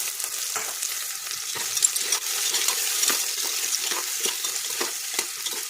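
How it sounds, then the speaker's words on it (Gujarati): Onion frying in spiced oil for khichdi, a steady bright sizzle with repeated stirring scrapes and taps throughout, close and moderately loud, with no voices. "એમાં આપણે ડુંગળી નાખીશું"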